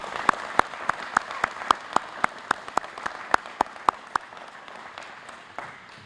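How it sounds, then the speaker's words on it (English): An audience at a parish inauguration ceremony in Lafourche applauds, with a few sharp close claps standing out in a quick regular rhythm over a softer crowd patter that thins toward the end. "Let's give them a round of applause."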